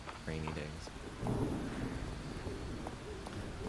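Steady rainfall and a low rumble of thunder sound in the Fields of Mistria video game. The rain hisses continuously while a deep rumble swells, and a person talks over it at times.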